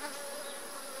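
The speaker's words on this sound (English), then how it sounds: "Even the guard bees that are trying to tell me to go away are being very polite in this hive." Honey bees hum steadily at an open hive during an inspection, a continuous close buzz with no voices over it.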